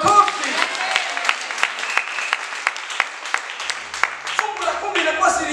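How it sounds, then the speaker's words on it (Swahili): A Pentecostal church congregation applauds, sharp hand claps rising into a burst of clapping that swells and thins, with voices and cheering mixed in near the end. "Mpigie Yesu makofi."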